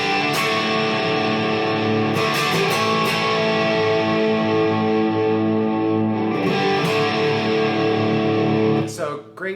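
Electric guitar played through a Fender Mustang GTX100 on an 80s British JCM800-style amp preset with large hall reverb, sustained distorted chords ringing steadily for about nine seconds with a few fresh attacks, then tapering off near the end.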